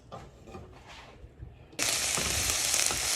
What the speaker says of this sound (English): We're going to let these onions caramelize.